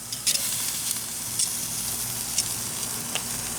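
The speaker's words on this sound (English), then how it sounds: "We're just going to put a hot sear on this" Chuck roast, sous vide for 24 hours, searing on a hot grill, giving a steady close sizzle throughout with a few brief crackles and pops and no talking.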